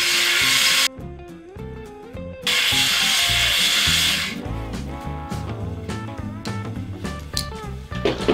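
A drill-driven cylinder honing tool works inside a Jeep inline-6 engine block, a close, loud rasping rub in two long bursts, followed by a stretch of rhythmic lower grinding and scraping with no talk.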